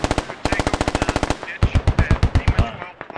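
Automatic rifle fire in the military shooter game Squad: rapid bursts of loud, sharp rounds fired in quick rhythmic succession, a short pause, then another heavier burst with deeper thuds, close and dominant.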